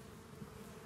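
Apis indica honey bees give a faint, continuous buzzing hum that stays steady through a brief moment, with no voices.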